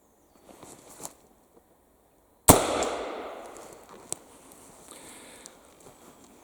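A single sharp gunshot from a Colt Navy M1851 cartridge conversion revolver firing rimfire cartridges cracks out close and loud, its report decaying over a few seconds, with a faint click before and a light tap after.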